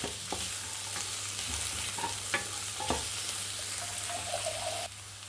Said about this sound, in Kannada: ಆ ಮಸಾಲೆ ಒಳಗಡೆ ಪನ್ನೀರ್ ಫ್ರೈ ಮಾಡಿದ್ರೆ ತುಂಬ ಟೇಸ್ಟಿಯಾಗಿ ಬರುತ್ತೆ.